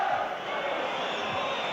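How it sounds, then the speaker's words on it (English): A football crowd in a 1979 stadium, Nottingham Forest against Liverpool, restless and waiting for the final whistle: a dense, distant roar of massed voices that stays steady, with scattered shouts inside the wash. "Crowd impatient for the final whistle"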